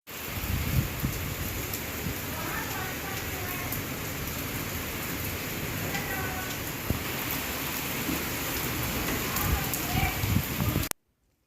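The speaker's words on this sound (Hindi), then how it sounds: "इतनी तेज़ बारिश शुरू हुई यहाँ पे और बारिश के साथ हवा इतनी तेज़ तेज़ चल रही थी" Heavy rain pours steadily with strong wind in a village setting, a dense, loud, continuous wash of drops with occasional sharper hits, sustained for about eleven seconds before cutting off abruptly.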